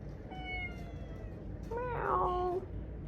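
A polydactyl cat gives a faint, short mew and then a louder, drawn-out meow of nearly a second, both close by over a steady low background rumble.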